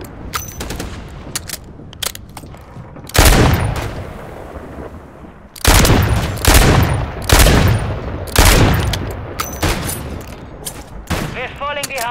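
Video game gunfire from a remote turret on the Shipment map, long loud bursts of rapid automatic shots broken by short pauses, with other game noises in between.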